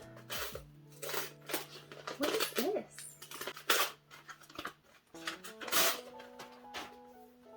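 Crinkly, rustling wrapping paper tearing and crumpling in bursts close by as a manga parcel is unwrapped, with a person talking briefly over the noise.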